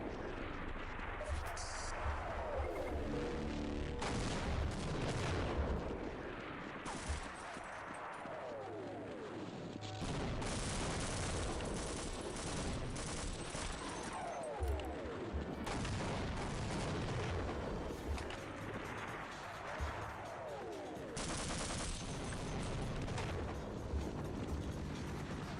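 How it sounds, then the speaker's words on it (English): Modded video game battle with grenade explosions and heavy gunfire, repeated booming blasts and dense crackling shots in a continuous loud barrage. "There they go, throwing their grenades from downtown."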